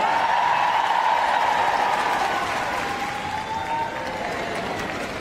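Crowd at Crufts cheering and clapping for Hurricane during an RAF display team performance, a loud, steady roar with a tonal whistle-like line drifting through it.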